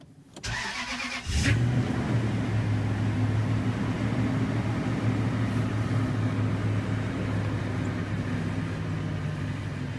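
A 2005 Toyota Tundra with 113,278 miles, not started for about two weeks, cranks briefly, catches, and settles into a steady, loud, even idle hum.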